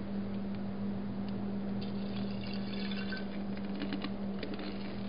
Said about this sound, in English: We're just gonna pour the muriatic acid in.